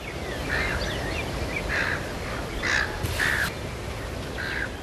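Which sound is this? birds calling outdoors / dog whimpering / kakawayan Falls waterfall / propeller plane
birds calling outdoors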